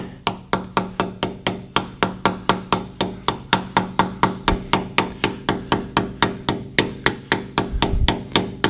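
Steady series of sharp hammer taps, about three or four per second, knocking a ball screw adapter into place on a Defiance boring mill, close and evenly repeated with no talk.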